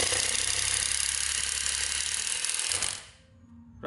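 A Japanese-market Ryobi 12V cordless screwdriver with a sturdy gearbox runs at full speed, giving a loud, steady, close whine that cuts off near the end and leaves near silence.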